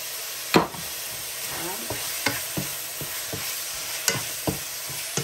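Chicken chop suey stir-frying in a pan: a steady, hissing sizzle broken by about a dozen sharp taps and scrapes of the utensil as the mix is stirred, close and without talk.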